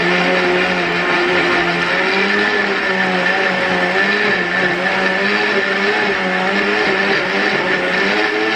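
A blender runs continuously at high speed, a loud, steady whirring motor with slight wavering in pitch throughout.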